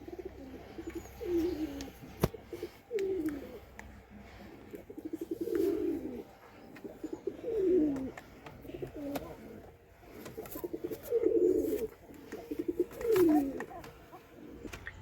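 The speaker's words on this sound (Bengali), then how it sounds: "এখানে একটা লাল কবুতর আছে" Domestic pigeons, including red birds kept in a loft, coo in repeated low throaty bursts roughly every one to two seconds, moderately close and fairly quiet over a faint background hum.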